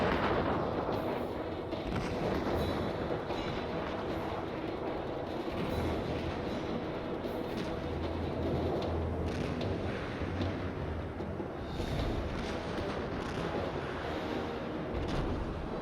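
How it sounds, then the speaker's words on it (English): 5-inch anti-aircraft guns of the cruiser USS New Orleans fire in a naval battle in the game Task Force Admiral, a dense, continuous roar of overlapping booms and rumbling blasts throughout. "USS New Orleans, CA-32, engages the aircraft with her 5-inch anti-aircraft guns."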